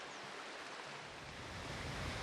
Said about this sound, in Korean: 우렁찬 폭포 소리가 먼저 반겨주는데요